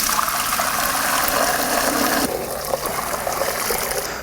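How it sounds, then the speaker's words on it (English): Homemade vegetable stock is poured through a fine sieve into a pot, a steady rushing stream for a couple of seconds that then eases into a lighter, trickling pour. "And then I'm gonna pour this back into this pot."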